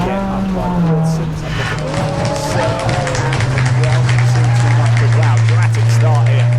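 Honda race cars in the Racing Hondas Championship at Snetterton rev and roar off the line together, loud and close. Engine tones climb and overlap while a commentator talks excitedly over the noise.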